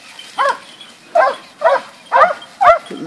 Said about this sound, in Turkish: duymuyor musun köpeklerin sesini